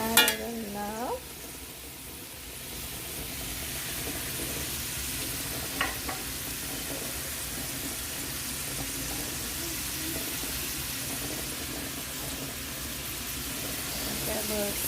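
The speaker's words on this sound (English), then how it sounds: "Sizzle a little bit." Steady, continuous sizzling of vegetables, including asparagus, frying in oil, close and even, with a couple of brief clinks near the start.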